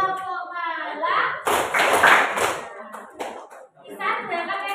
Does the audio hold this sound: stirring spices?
no